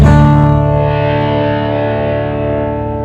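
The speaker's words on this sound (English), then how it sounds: "I can actually fade in some distortion, some overdrive." A sustained, heavily distorted acoustic guitar chord rings out loud and slowly decays, thick and buzzy with overdrive.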